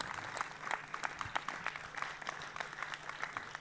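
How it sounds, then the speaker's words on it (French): An audience at a lecture on Masonic initiation applauds warmly with dense, steady clapping that holds an even level throughout, with no speech. "je vous demande de l'applaudir très chaleureusement"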